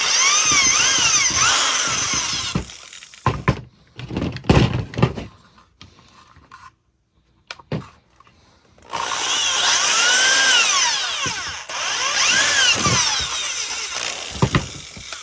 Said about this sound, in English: I am on all the wrong drill bits today.